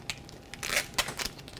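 Knifeless tape is pulled through vinyl wrap on an Audi R8, giving a close, short crackling and crinkling tear with a few sharper snaps along the cut.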